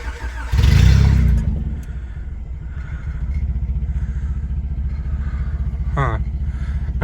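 A car engine with a custom exhaust cranks and catches in a loud burst, then falls into a steady, low, rumbling idle that carries on close by, with a brief rattling blip near the end.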